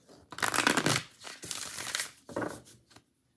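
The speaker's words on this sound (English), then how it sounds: "Let's give it a little shuffle here." A deck of oracle cards on Red Wheel publishing cardstock is shuffled by hand, giving dense papery riffling and crinkling in two bursts, close and fairly loud, then a short stop.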